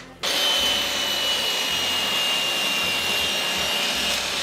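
A power saw cuts a straight strip off the edge of a wooden board for a DIY Advent calendar, starting abruptly and then running as a loud, steady whine and rasp with small dips in the low rumble.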